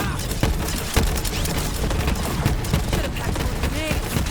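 Borderlands 3 gameplay with grenades being launched and exploding: dense, continuous gunfire and blasts with a few sharp thumps. The layered battle noise is loud and unbroken.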